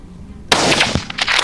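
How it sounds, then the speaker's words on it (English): A single loud gunshot cracks out suddenly during a wild boar hunt on farmland, close and sharp, with a noisy rumbling tail and further rattling crackles fading over the next second. "The gunshot roared, dust filled the air, and the beast collapsed"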